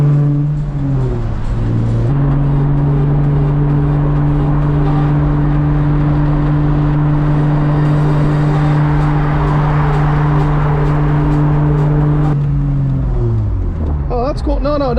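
A $1,000 Nissan Z, converted from automatic to manual and still on its automatic base map, pulls hard with a loud steady engine drone that climbs and shifts pitch, while people talk inside the car throughout.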